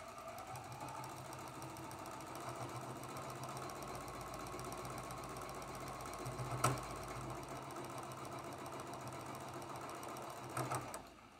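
A sewing machine stitches the seams of a traditional quilt block, a steady rapid mechanical whirring and thumping that runs continuously at close range, with no talking.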